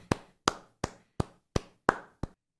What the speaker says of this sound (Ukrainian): Аплодуємо, чат, аплодуємо.